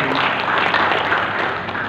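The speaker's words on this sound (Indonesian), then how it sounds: "tepuk tangan untuk Bukti" Applause from a crowd at a community gathering of elderly people, a Halal bi Halal celebration, honoring a woman named Bukti Suhartini. Dense clapping stays steady and close for the whole stretch.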